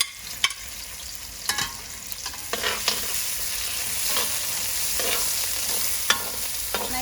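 Garlic frying with onion in hot oil in a pan, a continuous close sizzle broken by scattered sharp crackles and pops.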